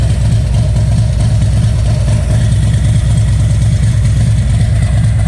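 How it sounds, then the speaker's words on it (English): A motorcycle engine idles loudly and steadily after being restarted, a dense low throbbing rumble with fast regular pulses close to the microphone and no talk. "shut off the bike for about 5 to 10 seconds, and then restart it."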